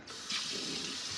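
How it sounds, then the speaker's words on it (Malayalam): Tap water runs steadily into a vessel as biryani rice is washed at a kitchen sink, a close, continuous rushing splash with no talk. "അരി വാഷ് ചെയ്യാണ്."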